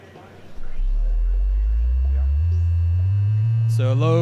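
A deep bass tone from an LFO on the 4MS Spherical Wavetable Navigator, run at audio rate, rises in pitch and swells into a steady, loud hum, and a brighter buzzy tone joins briefly near the end.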